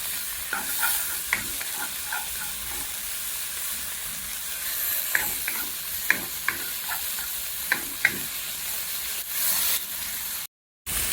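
Shiitake mushrooms stir-fry in oil for a healthy grain rice porridge, a steady close sizzle running throughout with scattered sharp clicks of a spatula against the pan and no voices.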